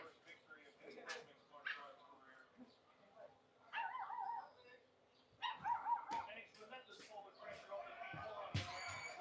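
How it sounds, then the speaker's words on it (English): Dogs fighting nearby, with scattered barks, sharp yips and high whimpers in irregular bursts, fairly faint and broken by short quiet gaps. "My dogs are fighting."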